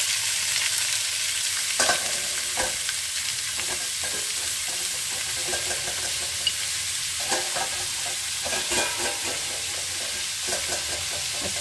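Carrots, beetroot and peas sizzle steadily in hot oil for a vegetable biryani, with a spoon scraping and stirring in repeated bursts throughout, close and continuous with no talk.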